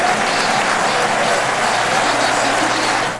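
Sport football fans at Ilha do Retiro stadium in Recife applaud coach Abel Braga, a dense, even wash of stadium clapping from a large crowd that continues steadily throughout.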